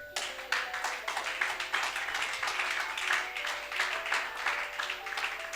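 A church congregation applauds in a sustained round of dense clapping that carries on steadily, moderately loud and reverberant, with no speech over it.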